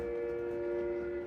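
A model train on a layout gives off a steady tonal hum with a faint rumble underneath, close and continuous for a brief moment.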